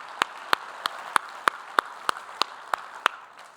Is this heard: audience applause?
yes